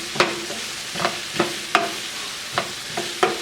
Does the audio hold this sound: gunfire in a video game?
no